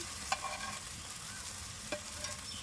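Grated onion fries in a pan, giving a steady soft sizzle with a few sharp scraping clicks as a utensil stirs it, fairly quiet and close with no voices.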